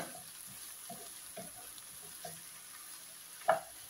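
Onions frying in a pan with salt, a soft steady sizzle and faint stirring scrapes throughout, ending in a brief louder clink near the close.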